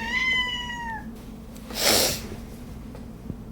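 A house cat gives one clear, close meow lasting about a second, followed by a short breathy snort or sniff, with a steady low hum underneath and no talking.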